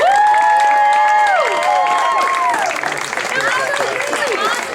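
A school audience applauds and cheers after a class performance of a Shakespeare play, with dense clapping and high shouts from young voices, loud and close, fading slightly toward the end.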